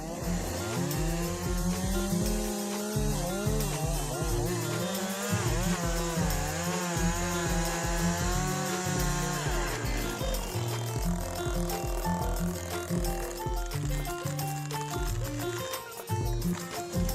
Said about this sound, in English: takes less than 3 minutes to cut through a 30-year-old oak branch